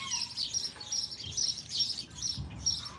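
Birds mobbing and attacking another bird outdoors give repeated high, rapid chirps and tweets in pulsing bursts, moderately close and fairly faint, with no talking.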